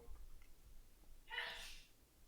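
A single sharp sneeze from a woman off to the side, bursting out in the middle of a quiet room during a livestreamed Magic: The Gathering Duel Commander session, brief and fairly distinct.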